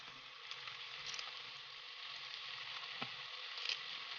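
Green chillies and curry leaves sizzle steadily as they fry with onions in hot oil, a continuous crackling hiss with a few sharper pops, alone and fairly quiet throughout.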